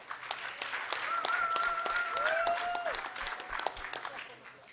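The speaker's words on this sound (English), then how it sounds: "let's give a big applause" A dinner crowd at a children's hospital fundraising charity event applauds steadily and fairly loudly, with a voice or whistle-like tone rising over the clapping partway through.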